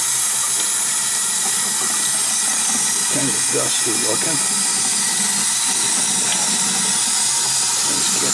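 A steady, loud hiss of water spraying over concrete Dutch boy and girl garden statues runs throughout the clip, and someone speaks briefly over it.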